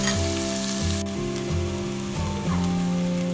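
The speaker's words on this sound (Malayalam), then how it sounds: "പാത്രത്തിലേക്കിട്ട് നന്നായി വഴച്ചെടുക്കണം" Ingredients sauté in a pan for an Indian-style spaghetti with a steady frying crackle, while a repeating tonal background melody plays loudly over it, with no speech.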